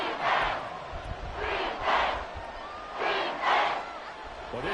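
Stadium crowd noise from an American football video game, Giants versus Commanders: a roaring crowd swells and fades in repeated loud waves with no distinct voices.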